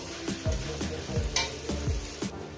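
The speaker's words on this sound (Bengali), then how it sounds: "পেঁয়াজটা আমি ভেজে নিয়েছি" Onions frying in a pan with salt added, sizzling steadily up close while a utensil stirs and scrapes in a regular rhythm of about one stroke every half second, for a chicken curry; no talking.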